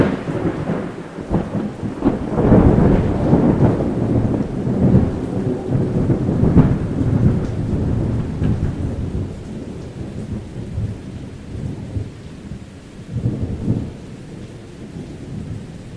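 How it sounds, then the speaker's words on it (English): Thunder rumbles and crackles over steady falling rain in a forest storm, loud rolling bursts near the start and again around the middle, fading to a softer rain wash with a late renewed rumble. "Above, thunder crackles and then lightning strikes while rain falls."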